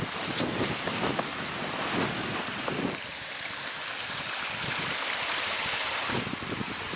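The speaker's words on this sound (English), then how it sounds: "You hear the water running." Steady rushing of water running in a stream near a small bridge at Pictured Rocks, Michigan, in winter, continuous and fairly close, with some broadband gusty noise and no talking.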